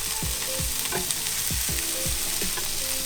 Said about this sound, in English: Gonna flip over the meatballs.